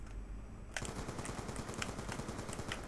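Rapid automatic gunfire in a video game shooter, a dense stream of sharp bursts starting abruptly after a quiet moment and continuing steadily, fairly quiet overall.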